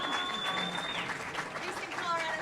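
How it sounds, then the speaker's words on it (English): A pub-talk audience applauds a newcomer with a soft, steady patter of clapping, mixed with talk and a whistle-like tone over the crowd. "Everybody give Jamie a round of applause."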